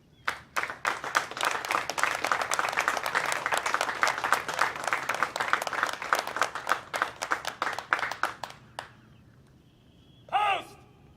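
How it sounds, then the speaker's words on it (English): A crowd at a Marine Corps Lima Company graduation ceremony applauds award recipients, dense steady clapping for about eight seconds that thins to scattered claps and stops, followed by a brief sound at the end. "please join me in a round of applause for our award recipients"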